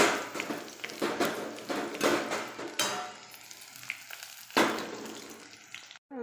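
Cumin seeds dropped into hot oil in an iron kadai, crackling and sizzling in repeated bursts with scraping stirs, close and moderately loud.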